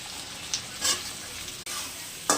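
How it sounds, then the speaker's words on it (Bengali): Potato, ginger and soybean chunks frying in hot oil for veg soybean chowmein give a steady close sizzle, with a few brief louder bursts as pieces drop in and get stirred. "আছে তেলের মধ্যে দিয়ে দিলাম আলুটা, একটুখানি আদা পুড়িয়ে দিয়ে দিলাম, সয়াবিনগুলো দিয়ে দিলাম"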